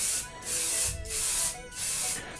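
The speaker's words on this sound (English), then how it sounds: "spray adhesive." Aerosol spray adhesive hissing out of a can in three bursts, each about half a second long, while applying barium sulfate powder coats. It is close and steady, with brief pauses between the sprays and a soft knock in the second gap.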